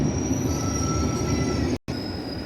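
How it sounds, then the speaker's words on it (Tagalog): A sleeping train rolls past in a steady, loud rumble with a sustained high metallic wheel squeal running through it and a momentary cutout near the end. "Ito yung sleeping train"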